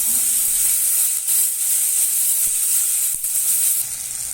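Onions and curry leaves sauté in a pan with a loud, bright, steady sizzle. A few soft knocks from stirring break in now and then, and no voices are present.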